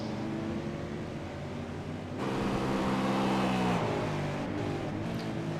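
A V8 race car engine drones steadily on track at Twin Ring Motegi in a sim racing game, then rises in pitch as it accelerates before easing off, with no voices.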